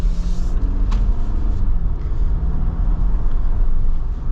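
Idling 2025 Jeep Wrangler Rubicon 2.0 turbo engine, a smooth, steady low rumble heard close and loud without a break, with no talking.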